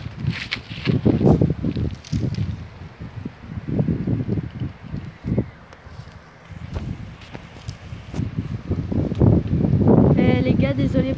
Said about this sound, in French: Et il y a beaucoup de vent, regardez.